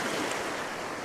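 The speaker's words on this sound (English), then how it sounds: "here comes a nice wave" Ocean surf breaks on the shore during a storm, a continuous broad roar of rushing water, close and unbroken, with no voices.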